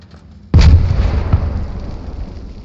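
A frag grenade goes off in Arma 3: one sudden heavy blast with a deep boom that rumbles and slowly fades over the next two seconds.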